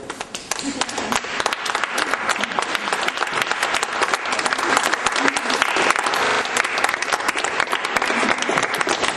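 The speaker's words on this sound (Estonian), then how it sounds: "Et lihtsalt, et ma saaks aplodeerida teile." Dense, sustained applause from an audience at a book launch for Jim Ashilevi's play in the Y-gallery, steady broadband clapping filling the whole stretch with voices mixed in.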